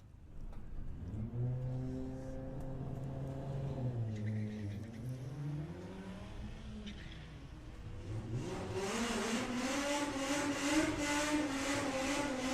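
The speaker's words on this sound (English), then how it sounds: "Going alongside Hazel Carter with Patricia the Passat." A Volkswagen Passat accelerates hard down the drag strip at Santa Pod, its engine revving up through rising gears with a gear change midway, then climbing again to a loud sustained roar.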